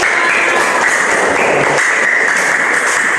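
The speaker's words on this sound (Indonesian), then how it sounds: "Tepuk tangan dulu buat kita." Schoolchildren in a classroom clap together, a loud, dense, continuous wash of applause holding steady for a few seconds with no speech over it.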